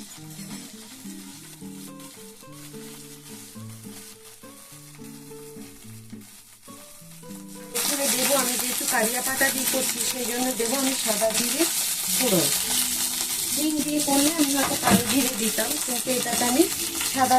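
Cumin seeds and curry leaves fry in oil with cloves, cardamom and a dried chili. Quiet tonal sounds come first, then a loud, dense sizzle bursts in and crackles steadily until the end.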